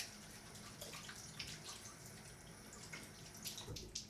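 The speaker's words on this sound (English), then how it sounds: "Wash my hands real quick." Hands are washed under a running tap at a sink, water splashing and trickling faintly but steadily, with soft irregular spatters as the hands move through the stream.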